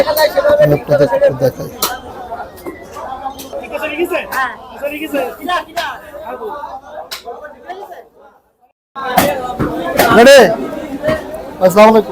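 Many buyers talk at once at a crowded village buffalo meat market, a continuous murmur of voices with sharp chopping knocks, a brief near-silent gap, then the busy babble returns loudly.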